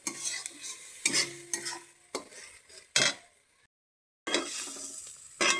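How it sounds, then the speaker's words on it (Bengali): Spice masala stir-fried in a pan for gatte ki sabzi, with close, loud bursts of spatula scraping and clattering over a hissing sizzle, a brief silent gap, then vigorous stirring resumes. "মশলাটাকে কষায় নিতে হবে।"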